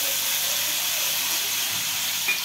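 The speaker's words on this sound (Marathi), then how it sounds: "गरम गरम तेलामध्ये लसणाची पेस्ट परतून घेतो" Garlic paste sautéing in hot oil while a fish curry is prepared, a steady close hiss of sizzling that holds evenly throughout with no pauses.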